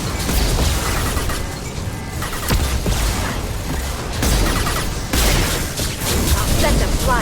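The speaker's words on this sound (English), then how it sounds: "Watch out, flashbang!" Mass Effect combat with a flashbang grenade going off amid a loud, dense barrage of gunfire and booming impacts, bursts repeating throughout with voices calling out over the fighting.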